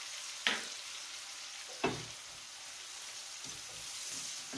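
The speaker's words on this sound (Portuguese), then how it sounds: "Então vou deixar refogar tudo junto." Sauce with paprika sautéing in a pan for homemade horse mackerel escabeche, a steady close sizzle broken by a few sharp scrapes of stirring spaced about a second or two apart.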